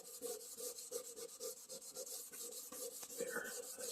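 A DeWalt planer table is lightly rubbed with 120 grit cloth sandpaper, giving a faint, steady rasping scrape in quick back-and-forth strokes.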